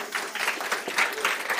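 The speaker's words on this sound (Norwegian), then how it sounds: "Applaus." Audience applause at a climate breakfast panel event in Norway, a short burst of steady clapping from a moderate crowd.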